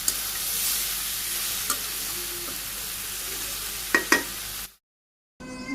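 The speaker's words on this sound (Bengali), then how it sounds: "মাছগুলো আমি দিয়ে দিলাম, মাছ দিয়ে আর একটু সময় রান্না করি" Fish pieces cook in a pan of vegetable chorchori in a Bangladeshi village kitchen, giving a loud steady sizzle with a few soft knocks and stirring taps before it cuts out briefly and resumes.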